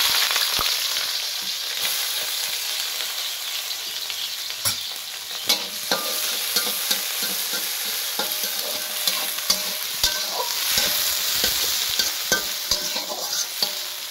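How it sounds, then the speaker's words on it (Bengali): Onions sizzle and fry in hot oil, a steady, bright crackle heard close up and alone, with occasional stirring clicks. "এই যে পেঁয়াজ দিয়ে দিব গরম তেলে"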